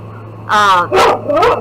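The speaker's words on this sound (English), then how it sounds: "my dogs are talking to each other" Small dogs bark and yip back and forth in a short, loud exchange of three close bursts, with no talking.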